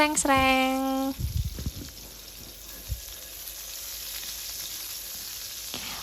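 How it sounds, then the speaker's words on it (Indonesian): Hot oil sizzles loudly as spice paste is stir-fried in a wok, a steady close-up hiss that starts right after a brief voice and continues unbroken. "Nah, ini udah panas, langsung aja kita sreng."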